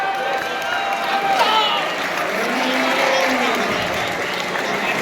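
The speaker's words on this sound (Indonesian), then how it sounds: "Boleh tepuk tangan dulu dong." A school audience of junior and senior high students claps steadily in a hall, a dense, sustained wash of applause with faint crowd murmur beneath.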